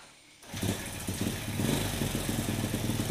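A motorcycle engine, one that fouls its spark plugs black, starts up after a short quiet moment during a carburetor adjustment and then runs at a steady, rising idle with a rough, even putter.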